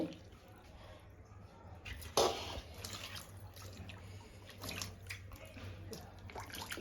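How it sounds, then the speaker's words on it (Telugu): Goat tripe is scrubbed and rinsed in hot water, giving soft splashing and sloshing with a sharper splash near the start, steady faint water handling under low background noise. "వేడి నీళ్ళలో క్లీన్ చేస్తా బోటిని"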